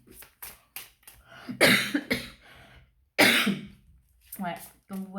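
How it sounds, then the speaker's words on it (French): A woman coughs several times in short, harsh bursts, a few separate hacks followed by two strong coughs, with brief throat sounds and a little speech between them. "comme vous voyez, ma toux par moment"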